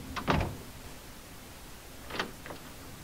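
An attic access door in Fears To Fathom: Woodbury Getaway shuts with a sharp thud, followed about two seconds later by a fainter pair of knocks, against quiet room tone.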